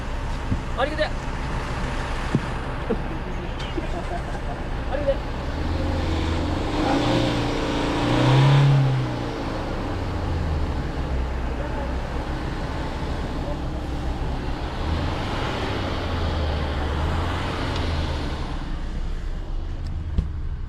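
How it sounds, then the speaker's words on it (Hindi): A truck engine labours and revs on a snowy, icy mountain road between Lachung village and Zero Point, with a steady rumble that swells in the middle while people talk over it. "ट्रक ला करके फंसा दिया है"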